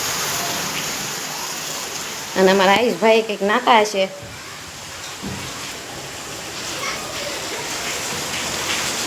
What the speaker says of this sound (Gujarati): સારો વરસાદ આવી ગયો અમારે